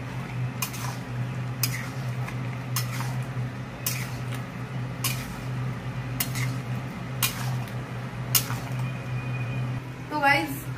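A spoon scrapes and clinks against a pan while jackfruit and shrimp curry with ghee is stirred, the tapping strokes coming in a steady rhythm over a constant stove hum, with someone talking throughout.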